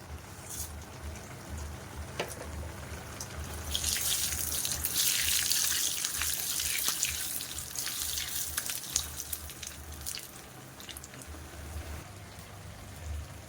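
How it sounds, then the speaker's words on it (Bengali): Panch phoron spices and dried red chillies crackle and sizzle in hot oil for a Bengali home-cooked dish, a steady hiss swelling louder through the middle and easing off, with a faint low hum underneath and no talking. "এতে একটু পাঁচ ফোড়ন আর শুকনো লঙ্কা এটা দিয়ে দেবো"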